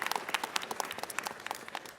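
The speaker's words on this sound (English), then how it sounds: "Let's give him a round of applause." An audience at a city council Food Day celebration claps in a short burst of brisk, moderately close applause lasting about two seconds, with no talking over it.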